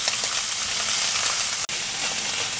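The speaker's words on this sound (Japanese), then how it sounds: "ベーコンもだいぶ焼けてきました。" Bacon and thick Spanish mackerel fillets fry together in a pan, giving a loud, steady, close sizzle that continues without pause apart from a momentary drop partway through.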